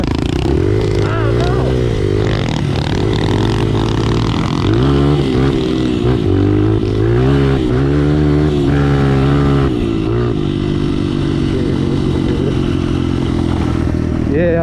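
Small pit bikes race together, their engines revving and droning loudly and continuously up close, with pitch rising and falling as they accelerate, under occasional shouts and talk.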